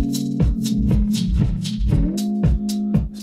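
A rhythmic beat plays through a Pioneer DDJ-FLX4 controller's Reflect Echo effect: bright repeated hits smear and bend in pitch, giving a wobbling, warped, bouncing echo over a steady bassline.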